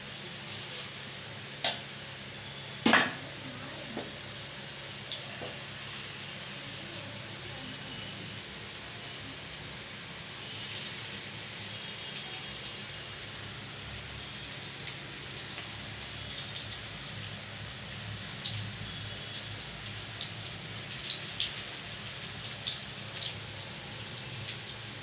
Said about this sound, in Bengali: বাদবাকিগুলো এইভাবে সবকটা ভেজে নেব